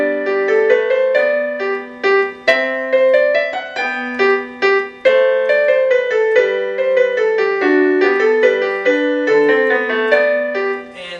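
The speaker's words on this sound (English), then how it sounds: "we're working on a minuet in G by Bach" Solo piano plays Bach's Minuet in G, a clear, steady melody over a simple bass line with distinct note onsets and no voices, loud and close throughout.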